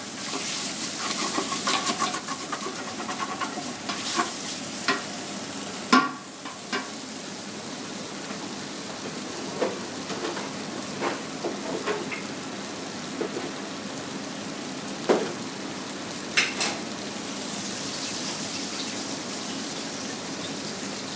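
Faint steady sizzle of a hot pan heating up before garlic goes in, a soft continuous crackle with occasional sharper clicks and stirring knocks, fairly quiet and alone without talk.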